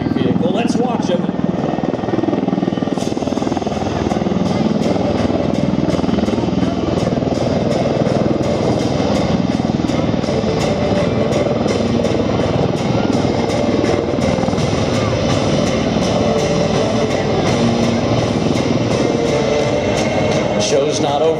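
An MV-22 Osprey tiltrotor hovers at an air show, its heavy rotor throb and turbine whine droning continuously and fairly loud for the whole stretch, with crowd noise and an announcer faintly underneath.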